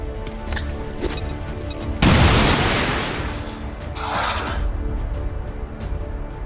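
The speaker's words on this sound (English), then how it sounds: "Grenade out!" A grenade blast in XCOM 2 erupts loudly and fills the whole spectrum, then rumbles and fades over a couple of seconds before a second, softer burst follows. Game music and ambience continue underneath.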